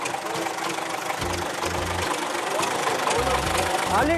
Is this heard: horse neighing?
no